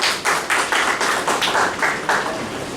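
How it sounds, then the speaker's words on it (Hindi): Audience clapping in rhythmic bursts at a Hindi literary anniversary ceremony, steady applause filling the hall for a writer and journalist, moderately loud with no voices over it. "आप सब कोई राकेश मिश्रा जी के लिए जोरदार तालियां बजाएं"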